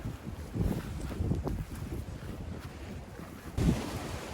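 Strong gusting wind in extreme weather buffets a tiny tent and blows across the microphone, a continuous low roar that surges and swells with a sharper gust near the end.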